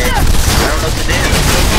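SWAT team gunfire in the video game Mirror's Edge: a dense, continuous clatter of rapid shots filling the whole stretch, with a voice talking over it.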